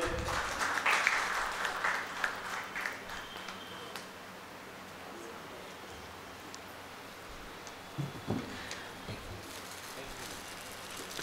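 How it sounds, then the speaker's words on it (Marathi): An audience at a Marathi book launch gives a brief burst of applause that quickly fades into soft rustling and scattered claps, faint and somewhat distant. "एकदा जोरदार टाळ्या होऊन जाऊ देत."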